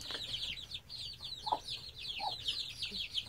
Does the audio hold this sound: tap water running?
no